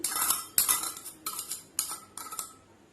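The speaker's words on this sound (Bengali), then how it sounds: "ডিমের মিশ্রণটা এর মধ্যে আমি মিশিয়ে দিলাম।" A utensil stirs an egg mixture into cake batter with a bowl and makes a series of sharp, close clinks and scrapes about every half second, with no talking.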